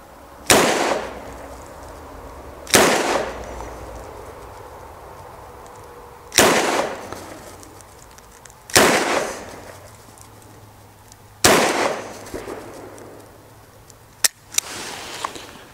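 Six sharp, loud shots from a Smith and Wesson 325 Thunder Ranch .45 ACP revolver fired double action, spaced a couple of seconds apart with ringing decay after each, the last two closer together.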